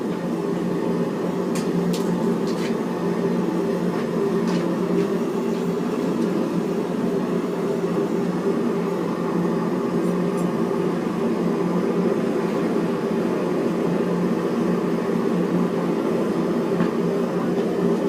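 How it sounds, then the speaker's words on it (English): Continuous loud roaring rush of a propane forge burner, steady and unbroken throughout, with a few faint clicks on top. "The propane ain't exactly quiet."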